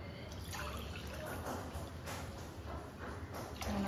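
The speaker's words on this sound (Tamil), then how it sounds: "ஒரு கப் தண்ணி தான் ஊற்றிருக்கேன்" Water trickles and splashes softly into a pot of parboiled rice close by, with quiet irregular drips over a low background hum.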